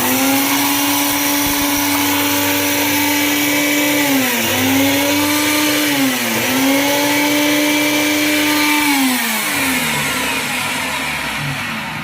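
A kitchen mixer grinder (mixie) grinds cooled ingredients for a traditional fish curry, its steady loud motor whine running throughout and dipping briefly in pitch a few times as the load shifts.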